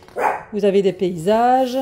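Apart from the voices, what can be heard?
dog barking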